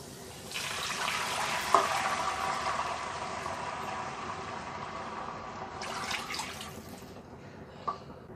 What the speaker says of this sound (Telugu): 2 కప్పుల వాటర్